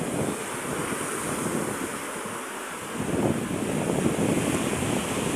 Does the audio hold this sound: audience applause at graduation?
no